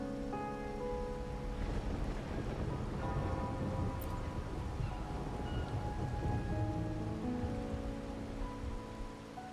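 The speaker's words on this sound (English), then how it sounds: "Raguna's rain is a bad omen" Steady rain with rumbling thunder in the video game Wuthering Waves, a continuous wash of falling water under soft background music with a low roll of thunder in the middle.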